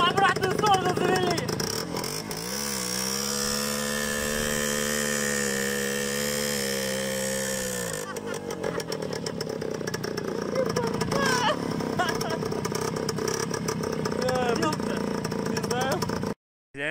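A Voskhod motorcycle engine runs after being started so that it turns in reverse, a steady buzzing two-stroke drone that rises and holds, then turns rougher and more uneven, with people talking loudly over it.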